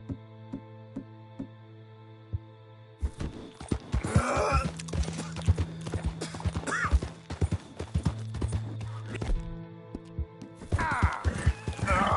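A horse in a PS4 video game whinnies loudly and clip-clops along at a steady trot, hoofbeats repeating against a backdrop of game music, with a second whinny near the end.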